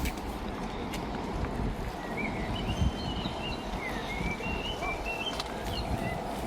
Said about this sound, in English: We hear some birds.